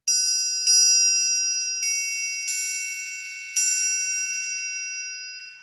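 An orchestral triangle is struck five times, each strike a bright, pure, bell-like ring that sustains and slowly fades, sounding alone in quiet.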